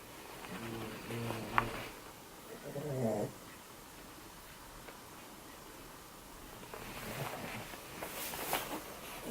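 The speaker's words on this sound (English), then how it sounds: "It's the dog snoring." Soft, rhythmic snoring from a dog, a few raspy breaths in quiet bursts with long pauses between, faint and close.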